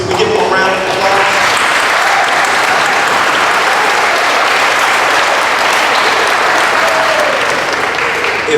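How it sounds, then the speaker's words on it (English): A symposium panel audience applauds a group of students seated at the back, a dense, steady wash of clapping that fills the whole stretch at full volume without letup. "Can we give them a round of applause?"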